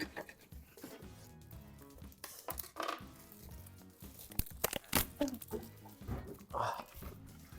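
A packaged stand is unpacked by hand, its wrapping crinkling, rustling and tearing in irregular bursts that grow louder toward the middle, with a faint voice in the background.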